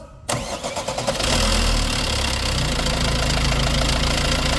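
An Opel Astra J 1.3 diesel with 157,000 km and its original timing chain cranks and catches after a brief silence. It then settles into a loud, steady, slightly rattly idle close by, with no voices.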